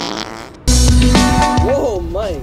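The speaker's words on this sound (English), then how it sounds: "I farted by mistake." A loud, abrupt fart bursts in after a brief quiet moment at a chaotic children's birthday party, running for about two seconds with a rough tonal buzz before fading, with voices and background noise around it.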